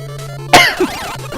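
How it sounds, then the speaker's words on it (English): A single sharp cough bursts out, followed by a short wheezy catch of breath, over a faint steady hum. "I really laughed myself to a coughing saying this"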